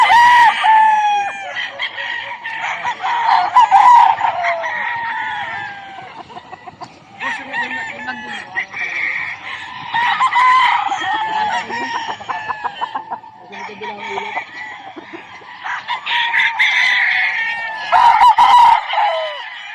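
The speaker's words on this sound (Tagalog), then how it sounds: "So pakita natin yung mga manok" Gamefowl roosters on a game farm crow repeatedly in loud, overlapping calls close by, with clucking in between and a few other birds crowing farther off across the yard.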